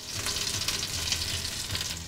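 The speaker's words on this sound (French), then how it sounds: "Quelques minutes de friture dans de l'huile." Meatballs dipped in egg and breadcrumbs fry in hot oil, a dense, steady crackling sizzle that fills the short stretch evenly and up close, with no voices.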